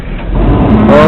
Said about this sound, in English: Took some time to crank over, but it started just fine.